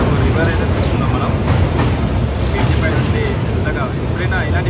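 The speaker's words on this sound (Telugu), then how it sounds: "ఎప్పుడైనా ఇలాంటి బ్రిడ్జిలు వచ్చినప్పుడైతే మన ట్రైన్ అయితే చాలా స్లోగా వెళ్తుంది" A passenger train running from Kazipet to Prayagraj rolls slowly across a river bridge, giving a steady, close, broadband rumble and clatter throughout, with faint indistinct voices in the carriage.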